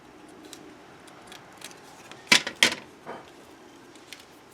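Scissors snip off a paper border while making collage cards: two or three quick, crisp cuts close by, set against a quiet room with faint background noise.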